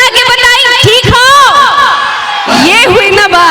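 A large crowd at a Bhojpuri stage event yells back loudly in unison, with cheering and whooping mixed in, loud and close, in two big surges.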